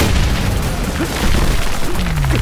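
A car blows up in a loud, deep boom with crackling debris and a rumbling tail, followed by a descending whoosh, set in a fantasy action fight scene.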